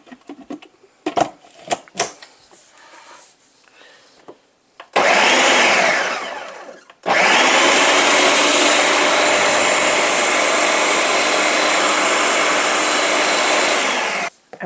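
A food processor blends roasted cauliflower and almonds, whirring loud and continuous in two bursts separated by a short pause, after a few clinks and knocks of handling.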